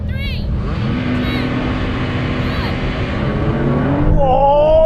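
Several Porsche cars launch together in a drag race, their engines roaring loudly and continuously as they accelerate, with a rising whine near the end and a commentator talking over the noise.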